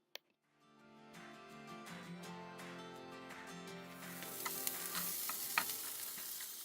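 Onions fry in a pan for fried onions and potatoes. After a brief click, a soft sizzle builds into a steady, crackling hiss that grows louder and busier toward the end.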